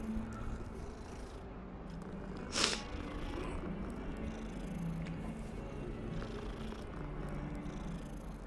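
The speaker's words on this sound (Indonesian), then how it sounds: "Ada kucing." A cat in the video game Hogwarts Legacy purrs softly and steadily amid quiet game ambience, with one brief sharp click partway through.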